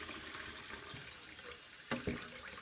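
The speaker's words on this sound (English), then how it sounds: "Just leave that water running and those beans will be fine." Cold tap water runs steadily over beans in a saucepan while chilli con carne is prepared, a continuous close hiss of flowing water with a couple of brief knocks near the end.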